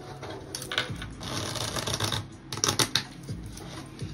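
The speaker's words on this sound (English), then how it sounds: "Let's give it a good shuffle." Tarot cards being shuffled by hand: rapid papery riffles and soft slapping bursts in quick uneven clusters, close and fairly quiet, with no talking.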